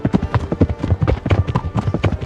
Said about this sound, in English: The horse sounds very defined. The gallop.